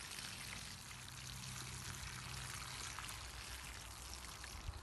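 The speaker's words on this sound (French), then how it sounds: "Ce qui est important, c'est de bien arroser pour que la terre se tasse" Water poured from a can onto the soil around freshly planted iris makes a quiet, continuous splashing stream that stays even and faint throughout, with no voices.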